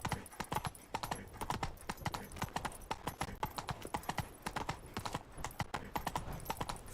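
Hooves pound in a fast, even galloping rhythm from a horse in the video game The Witcher 3: Wild Hunt, close and continuous for the whole stretch.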